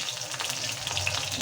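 Bay leaves and dried chilies dropped into hot oil, a close, steady bright sizzle and crackle of frying with no talk over it.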